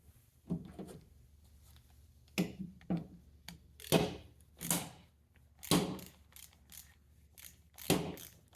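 A screw coated with thread locker is tightened on the AC clutch of a 2017-or-later Chrysler Pacifica, producing a series of close, sharp ratcheting clicks in irregular bursts, roughly a dozen in all, over quiet background.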